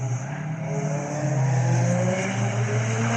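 A BMW M4 and a Porsche GT3 race around the Cadwell Park track, their engines forming a sustained, fairly loud roar that rises gradually in pitch with no break.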